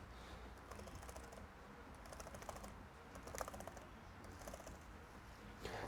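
Keys clatter on a Lenovo ThinkPad E15 Gen 2 laptop keyboard after a repair, with quick, light, steady typing in irregular bursts and no voices.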